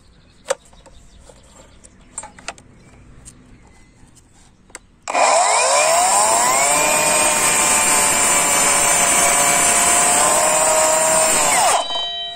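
A Parkside Performance PAKSP 20 cordless mitre saw cuts through a thick wooden board. After a few quiet handling clicks, a loud, steady high-pitched blade whine starts abruptly and holds for about seven seconds before winding down.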